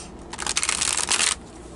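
Cards being shuffled for a reading, heard as a brief close, crisp riffling flutter lasting about a second before it settles back to a quiet room hush.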